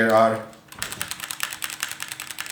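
Rapid, steady clacking of Kailh Box Red mechanical switches on a Fnatic STREAK65 gaming keyboard, close and crisp, following a brief burst of speech at the start.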